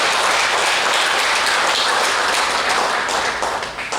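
A church congregation claps together during a Sunday worship service, a dense, steady wash of applause that holds for several seconds before thinning out and tapering at the end.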